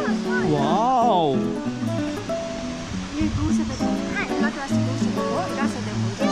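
Shivanasamudra's Barachuki Falls rushes with a steady, broad roar of water pouring from above, while people talk loudly and excitedly over it close by.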